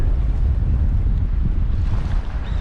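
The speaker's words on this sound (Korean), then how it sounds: "오늘 남풍이 불어 가지고" Steady south wind blowing at a beach fishing spot, a loud continuous low rumble of wind buffeting the microphone with faint surf beneath, no voices.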